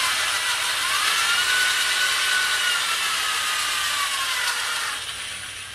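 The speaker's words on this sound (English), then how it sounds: "And drilling like this is also very dangerous, especially in the case that you tend to split the wood." A power drill bores into wood while a traditional six-hole Native American flute is being made, giving a loud, steady whining drone close by that holds for about five seconds and then winds down.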